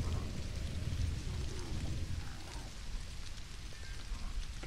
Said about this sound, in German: Es regnet. Oh, das ist ja, es regnet in der Wüste